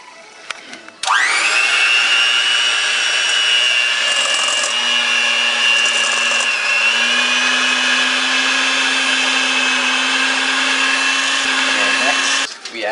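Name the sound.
electric beater mixing cookie dough until creamy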